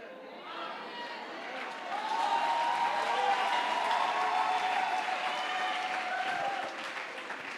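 A church congregation applauds and cheers loudly during a sermon. Dense clapping and crowd voices rise after a couple of seconds, hold strongly, then ease off near the end.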